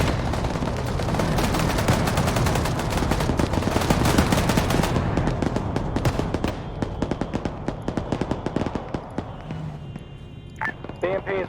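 Militia gunfire in Arma 3 during an assault on a T-55 depot, dense, sustained automatic bursts and rapid shots that thin into separate cracks, with voices talking over the shooting.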